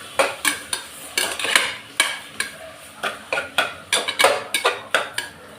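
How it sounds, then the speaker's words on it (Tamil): Peas and grated carrot sauté in ghee in a pan, with a metal spoon repeatedly scraping and clattering against the pan over a soft sizzle in an irregular stirring rhythm. "இப்போ இது எல்லாத்தையும் நல்லா வதக்கிடலாம். இந்த நெய்லேயே வதக்கிடலாம்"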